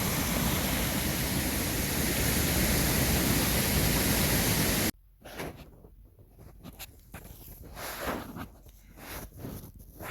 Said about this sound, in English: it's just literally turning it into white water very fast